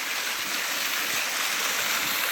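Water pouring over a rock shelf at Tanners Falls, a steady broadband rush that stays close and constant throughout, with no voices.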